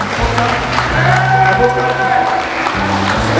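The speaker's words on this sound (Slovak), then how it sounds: "ešte jeden veľký potlesk pre túto výherkyňu" Steady clapping from a party crowd for a contest winner at a Slovak engagement celebration, sustained and fairly loud throughout, with a voice talking over it and a sung or held tone underneath.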